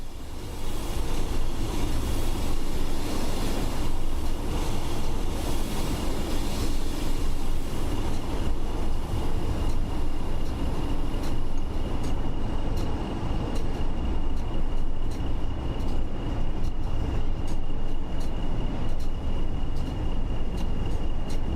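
A train running through snow on the West Coast Main Line, a loud continuous rumble and rushing roar with faint rhythmic clatter, steady throughout and heard alone without any talking.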